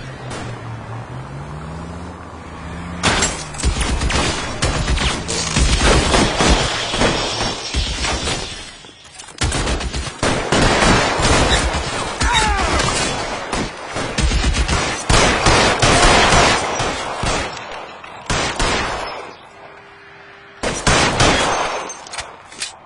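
Gunfire in the video game L.A. Noire: dense bursts of rapid shots and rattling volleys fill most of the stretch, loud and close, with brief lulls between exchanges and no talk.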